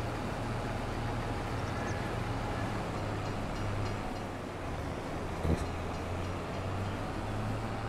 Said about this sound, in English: Train is just going back and forth.